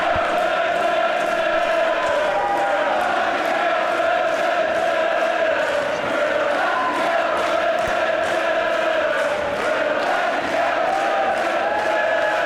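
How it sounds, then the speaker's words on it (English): A large wrestling crowd roars and cheers continuously, a loud, dense wall of voices from an arena that never lets up. "As the crowd here are just going crazy."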